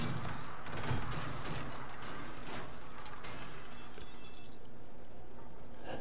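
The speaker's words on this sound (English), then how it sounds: "Knock out some glass." Glass is knocked out and shatters in the survival game 7 Days to Die, a burst of crashing, crackling breakage in the first few seconds that thins into a scattered, rattling tail.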